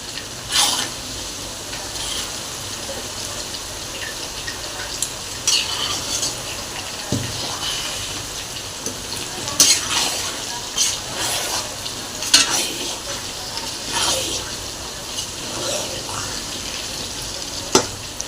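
Vada pav masala roasting in a pan gives a steady soft sizzle, with repeated scraping and stirring clinks from a utensil throughout.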